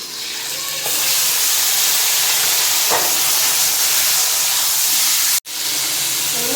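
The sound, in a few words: dry red chilli and five-spice tempering frying in oil in a kadai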